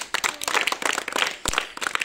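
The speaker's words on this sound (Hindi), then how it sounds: "गया, ताली बजाओ।" A few people clap by hand during a bucket coin-toss game, a quick, uneven burst of close, sharp claps lasting about two seconds.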